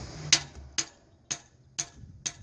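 A hammer gives five sharp metallic taps on an engine valve at a steady, unhurried pace, each a bright, close strike with a short ring and quiet gaps between.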